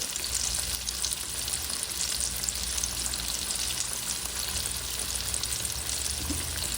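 Pickles fry in hot grease with a continuous crackling sizzle, close up and steady, no voices.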